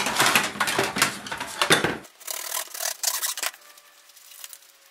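A piece of scrap from a trailer bed is cut down in a workshop, with harsh rasping strokes for about two seconds, then lighter scraping and rubbing that fades afterwards.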